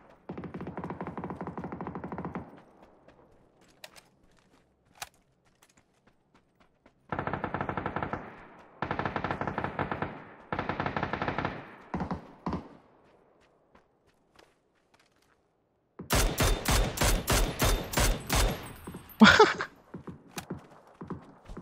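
Rapid automatic gunfire in the battle royale video game PUBG Battlegrounds, several separate bursts of clattering shots with gaps of near-silence between them, the last bursts louder and closer.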